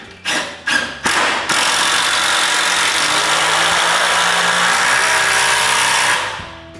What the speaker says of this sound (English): I screw 2 6-inch screws at the top.